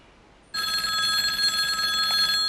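A telephone bell starts ringing abruptly and keeps up a continuous, loud metallic trill with no one speaking.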